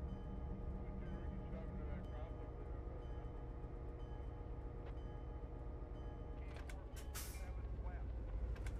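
Air brake release on a train in Train Simulator 2019, a sharp hissing burst near the end over a constant low locomotive rumble and drone.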